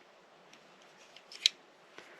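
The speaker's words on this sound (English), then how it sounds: "this is actually one of the better scissors on the market" A few soft metallic clicks and snips from the scissors of a Leatherman Surge multi-tool, with one sharper snap near the middle, sounding close by in a quiet room.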